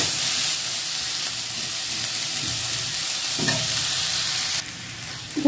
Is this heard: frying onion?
yes